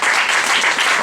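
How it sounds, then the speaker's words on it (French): Dense audience applause fills a public show, steady and loud throughout with no voices on top. "Sous un tonnerre d'applaudissements."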